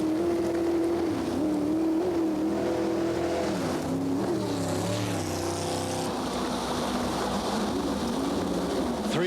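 A racing jetboat at a championship race on the Payette River powers off from the start, its engine howling and surging in pitch as it accelerates, then fading into a rougher, more distant rumble.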